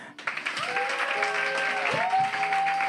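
A church congregation applauds and cheers at a special baptism service: steady, full clapping right up close, with a few whistle-like tones and voices rising over it.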